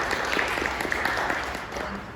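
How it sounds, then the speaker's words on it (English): Dense, steady applause from a conference audience fills the whole stretch, a broad wash of clapping with no clear pauses. "Please another round of applause for Constance."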